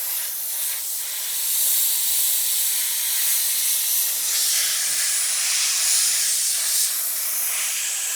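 Steady hiss of steam sprayed onto a BMW F10 M5 brake caliper treated with Iron-X, a continuous close spray that swells louder midway and holds with slight fluctuations.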